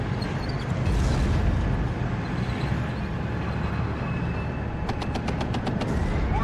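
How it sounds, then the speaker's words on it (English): Artillery fire in the WARNO war video game: a heavy continuous rumble of blasts and distant gunfire, ending with a rapid burst of sharp repeated shots. "attack their MI8 there with my own artillery"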